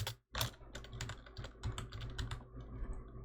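Fingers type steadily on a computer keyboard while filling in a police terminal in a FiveM roleplay server. Clear, close key clacks come in quick uneven bursts, with a short pause near the start and no voices.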